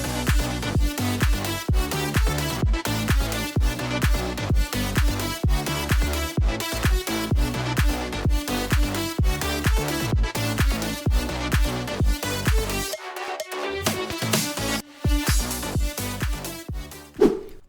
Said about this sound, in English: reverse reverb sweeps so that you guys can make more interesting drops and EDM that sounds like this.